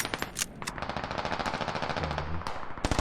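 Rapid bursts of machine gun fire from the military shooter game Squad, loud and close, hammering in a steady rhythm for a few seconds with a short pause and a final burst at the end.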